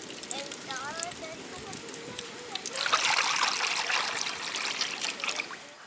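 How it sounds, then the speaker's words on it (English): Groundnut oil is poured into a well-heated pan on a stove for frying gulab jamun. Quiet background at first, then a sudden steady rush of pouring and sizzling that continues to the end. "Pour the oil."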